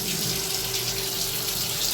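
Water runs steadily from a shower tap in a hotel bathroom, a loud, continuous hiss and rush of spray that holds even throughout, with no voices.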